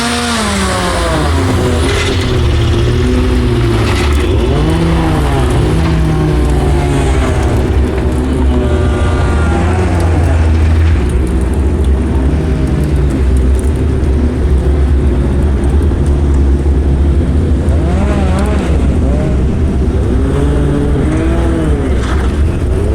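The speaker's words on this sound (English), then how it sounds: "I'll just let this video play of the GB3 cars starting up and heading out onto track on the Friday." Several GB3 single-seater race cars start up and pull out onto the track at Oulton Park during a British GT weekend, loud engine drone with repeated revs rising and falling over a steady low rumble throughout, no talk.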